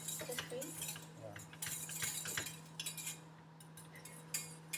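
Chocolate cream being whisked in a pan over heat for macarons, quiet metallic scraping and clinking of the whisk against the pan in irregular strokes over a low steady hum.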